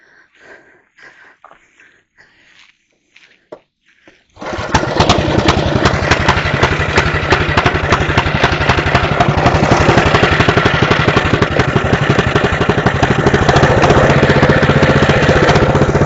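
An early-1970s Mowett Mustang riding lawn mower engine cranks over and catches after a few quiet seconds, then runs steadily and loudly with a throbbing small-engine rumble.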